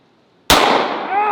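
A single loud, close .45 ACP pistol shot firing Underwood 230-grain jacketed hollow point ammunition, sharp onset after a moment of quiet, followed by a ringing echoing tail.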